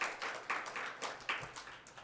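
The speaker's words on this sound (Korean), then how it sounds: "성경 천도 가신 분 성기정 권사님 박수로 격려하겠습니다" A church congregation applauding a deaconess at a Sunday service, a brief round of moderately faint clapping in several rhythmic bursts with no talk over it.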